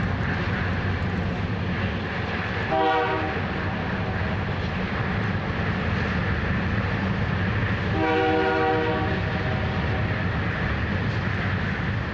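Freight train crossing a bridge over the Mississippi River, heard from a waiting locomotive cab: continuous broad rumble with two distinct bursts of rhythmic rattling as cars pass, no talk.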